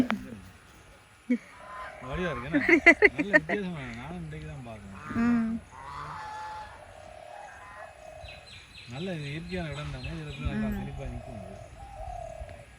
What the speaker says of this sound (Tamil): இந்த வாத்து கத்தும் போது அந்த சத்தம் வந்து கேட்பதற்கு மிகவும் இனிமையாக இருக்கின்றது